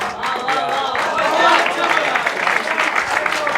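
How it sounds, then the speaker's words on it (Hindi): Applause from the audience at a Hindi poetry (shayari) show, a dense steady wash of many hands clapping for several seconds, with a voice talking over it. "दोस्तों, जोरदार तालियां, तालियां बजती रहें।"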